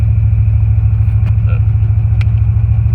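A 1984 Chevrolet Corvette with fuel injection runs at a steady idle, a loud close low rumble with an even pulsing throb throughout.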